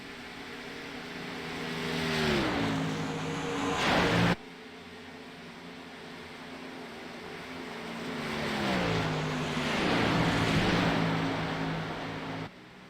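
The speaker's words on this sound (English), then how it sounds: "we got a couple cars going down pit road" Race cars in an auto racing video game roll down pit road, two engine passes swelling and fading as the pitch drops, with a steady mechanical drone throughout.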